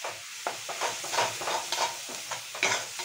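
Tomato and spice masala stirred in a pan, a run of close scraping strokes at an uneven rhythm over a soft sizzle, about half a dozen sweeps in a few seconds, with no talking.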